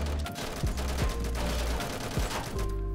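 Rapid gunfire in a Roblox prison-escape game, several sharp shots and bursts cracking in quick succession over a steady background of game noise.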